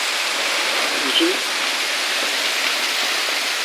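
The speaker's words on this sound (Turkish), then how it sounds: "Maşallah yağsın yağmur." Heavy rain pouring down in Manavgat, Antalya, a loud dense continuous hiss with steady roaring texture, with someone speaking over it.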